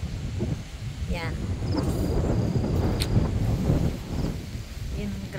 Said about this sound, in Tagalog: grabe yung lakas ng hangin